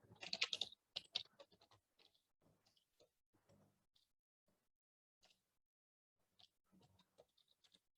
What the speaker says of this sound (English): Hold on 1 second, I'm just typing it.